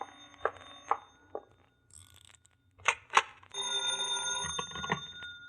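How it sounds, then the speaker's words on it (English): A telephone rings as a sound effect in a 1949 radio comedy, brief bursts of ringing among quiet gaps, with one longer loud ring near the end. "Answer that phone, will you?"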